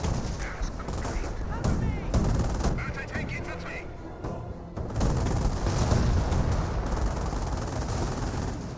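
Gunfire and bazooka shots ring out in a Company of Heroes battle as bazookas advance on a Flak 88, a dense, continuous mix of rifle and machine-gun bursts and booms with a voice talking over it.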